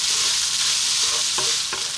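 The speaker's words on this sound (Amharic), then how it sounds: "እንዲህ እያደረጋችሁ እሳታችሁን ከፍ አድርጋችሁ መጥበስ ነው።" Cold cooked rice stir-fried over high heat in a pan for Chinese fried rice, a steady loud sizzle with scraping stirring strokes throughout, no talking.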